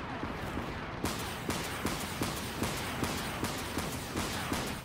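Ship guns of a Dreadnought in the Dreadnought naval game firing in a regular rhythm of about eight sharp, distant-sounding bangs over a constant rumbling background, with no voices.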